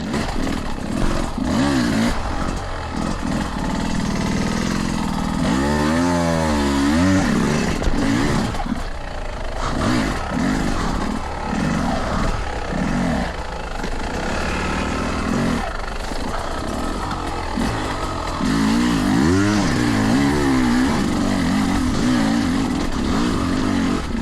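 Enduro motorcycles on a hard enduro race track at Dederang run continuously, engines revving and surging with rising and falling pitch sweeps over a steady loud drone, no talk.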